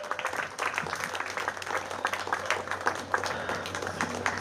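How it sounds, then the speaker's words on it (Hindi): An audience claps steadily through, welcoming performers onto the stage at a play performance, with a broad continuous patter of many hands at moderate distance and a low hum underneath. "वेलकम, तालियां लगाएंगे जोरदार।"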